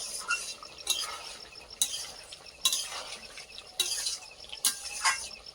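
Meat and new potato curry being stirred in a pot, a close spoon scraping and clinking in bursts roughly every second over a soft sizzle, with no voices.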